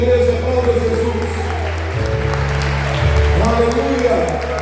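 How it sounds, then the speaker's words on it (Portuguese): A church congregation applauds during a worship service, the clapping running under sustained music with low, droning organ or keyboard tones throughout. "Aplauda o Senhor, igreja, aplauda Jesus"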